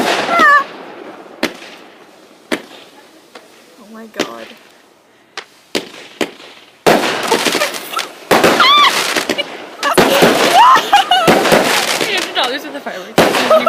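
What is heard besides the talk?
professional fireworks exploding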